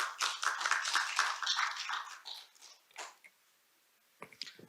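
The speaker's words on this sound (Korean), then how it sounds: "큰 박수로 부탁드리겠습니다" An audience applauds a speaker at a regional policy forum, a burst of clapping that fades after a few seconds into near silence before a few scattered claps return, fairly faint.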